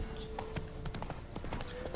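Roach the horse's hooves clip-clop in a steady, close rhythm in The Witcher 3, over a constant low background ambience.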